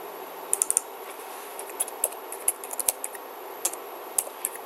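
Computer keyboard keys clatter in a quick burst of clicks, then scattered single taps, close and crisp over a quiet background.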